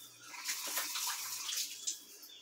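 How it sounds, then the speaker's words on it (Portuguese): Tap water runs steadily onto a plate being rinsed in a kitchen, a continuous hissing splash with small fluctuations as the stream hits the dish. "eu vou passar uma água aqui no prato"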